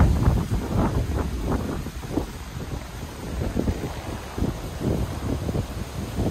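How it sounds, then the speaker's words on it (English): Strong wind gusts across a lakefront campsite in the Adirondacks, a continuous low rumbling roar against the microphone with uneven surges, close and moderately loud for several seconds. "but it's still very windy."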